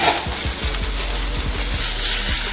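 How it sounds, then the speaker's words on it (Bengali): Pointed gourd (potol) frying in a pan gives a dense, loud, close sizzle with a low hum underneath and a series of soft rhythmic taps. "এদিকে দেখো বন্ধুরা পটল ভাজা"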